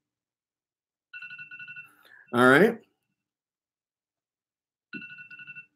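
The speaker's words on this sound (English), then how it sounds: "That's my alarm." A phone alarm goes off in short, repeated electronic ringtone bursts, one sounding early and another near the end, with a brief spoken remark in between.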